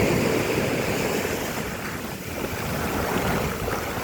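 Waves roll onto a beach under strong wind, a broad, loud roar of surf with wind buffeting the microphone throughout and no voices.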